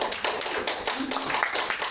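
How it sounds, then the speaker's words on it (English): A small audience at a drama slam gives a brief round of applause, sparse close hand claps with distinct sharp strikes, sounding like only a handful of people clapping. "Round of applause for that."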